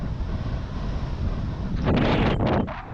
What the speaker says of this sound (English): Beautiful conditions and getting even more wind now.